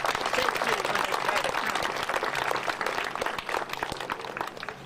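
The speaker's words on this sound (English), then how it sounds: "So if you can join me in giving them a round of applause for their support on the site" At the 2008 Manzanar Pilgrimage gathering, the crowd gives a round of applause for the Friends of Manzanar: a steady, full patter of many hands lasting several seconds, slightly thinning toward the end.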